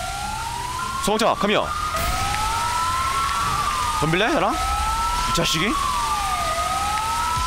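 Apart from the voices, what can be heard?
fire truck siren in video game GTA V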